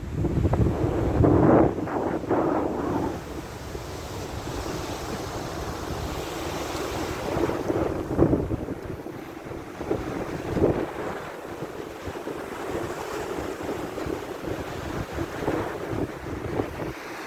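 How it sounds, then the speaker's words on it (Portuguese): Strong wind at Santa Clara beach in São Francisco de Itabapoana, RJ, buffets the microphone with a loud, continuous roaring rumble, gusting harder at times, with surf washing faintly underneath and no voices. "nesse momento aqui, o vento está bem forte"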